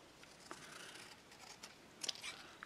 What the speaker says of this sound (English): I'm pretty confident with my scissors. So I'm just going to actually cut it right in half.